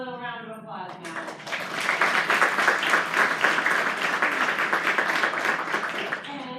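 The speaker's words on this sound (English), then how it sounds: "give them a little round of applause now" An audience at a fall teacher induction ceremony breaks into applause: scattered claps swell quickly into full, steady clapping that holds for several seconds, with a spoken voice at the start and end.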